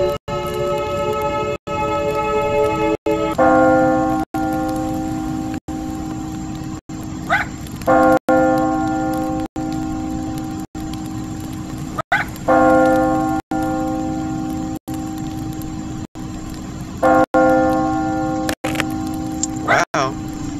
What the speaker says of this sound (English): This bell has been silent for ages. I can't believe it's ringing.